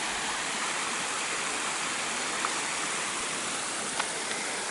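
A waterfall along the Armstrong Trail roars in a steady, dense wash of falling water close by, continuous and even throughout with no voices.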